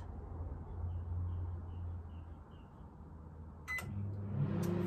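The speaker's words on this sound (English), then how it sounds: "Now I'm going to place it into the microwave" A microwave oven runs for a short heating cycle with flowers inside, a faint low steady hum, then a click or beep and a slightly louder whir near the end.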